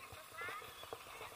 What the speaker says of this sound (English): Horseback riding tour.